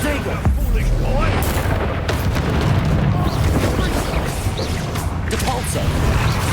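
Explosive spells blasting in the Hogwarts Legacy video game, a dense, continuous roar of booming impacts and crashes packed closely together with no pauses, loud throughout, with a voice heard speaking over the battle.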